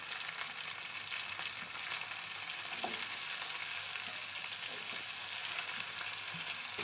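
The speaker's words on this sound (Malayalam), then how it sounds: "നമുക്കിതിലേക്ക് കനം കുറഞ്ഞ് അരിഞ്ഞു വെച്ചിരിക്കുന്ന സവാള ചേർത്ത് കൊടുക്കാം" Thinly sliced onions fry in a pan for a squid roast, giving a steady, close sizzle with a few soft stirring clicks and no talking.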